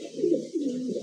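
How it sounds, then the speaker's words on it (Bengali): Caged pigeons coo in a close, continuous low murmur, with two rolling coo phrases running through one second. "যার যা লাগে একেবারে খাঁচাই খাঁচাই কবুতর আছে"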